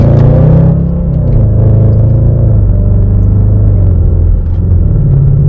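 A Range Rover SVR engine under full throttle gives a loud, deep, sustained roar with rising pitch from inside the cabin, with no voices.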